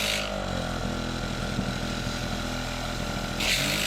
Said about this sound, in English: Looks like it's running the compressor just fine.